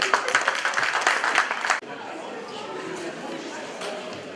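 Audience applause at a banquet, loud and dense for almost two seconds before cutting off abruptly, followed by a quieter room murmur.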